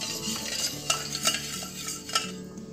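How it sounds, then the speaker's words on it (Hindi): Sugar syrup for Diwali bundi boils in a pan while a spoon stirs it, giving a steady bubbling hiss with a few clear scraping knocks and clinks against the metal, close and fairly loud, with no talking. "चाशनी जो है ये बॉईल हो रही है, अच्छे से बॉईल हो रही है।"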